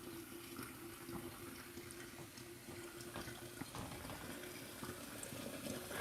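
Cold tap water runs steadily into a sink while homemade butter is rinsed and kneaded by hand, a faint continuous splashing hiss with small irregular squelches.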